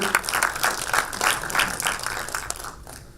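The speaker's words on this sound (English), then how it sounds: "Let's give a round of applause for Khalid." Brief applause from a small room audience at a startup pitch session, a close, fairly full burst of clapping that fades slightly near the end.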